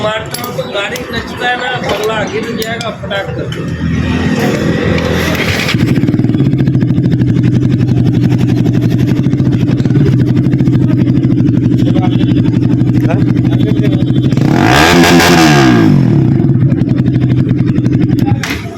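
A motorcycle just back from repair is started, settling into a steady loud idle after some clattering handling noise, with one sharp rev of the engine near the end.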